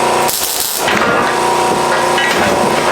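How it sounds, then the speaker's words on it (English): Tack welding a steel bumper for a 1995 Ford Econoline 4x4 van with a 7.3 engine: a continuous loud crackling buzz of the arc, steady throughout with brief dips, with no talk over it. "Ah! Okay. Welding."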